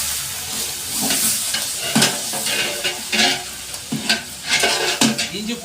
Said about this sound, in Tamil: வெங்காயம் இப்படி பொன்மேனியாக வறுத்துக்கணும்.